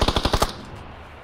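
A rapid automatic-weapon burst of about six evenly spaced, loud shots in the PUBG battle royale game, ending abruptly and followed by a brief fading tail with no voices.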